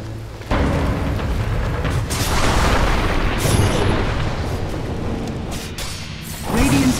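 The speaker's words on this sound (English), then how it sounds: "Radiant's bottom tower is under attack." In the Dota 2 video game, booming impacts and bursts hit the Radiant's bottom tower as it comes under attack, dense, loud and continuous, with a few sharper pops near the end.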